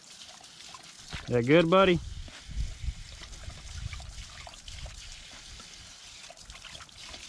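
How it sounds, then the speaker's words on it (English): Water trickles and splashes from a running garden hose while a dog drinks from it, a soft steady flow under a man's brief spoken words. "Get him some water. Drinks it right out of the hose."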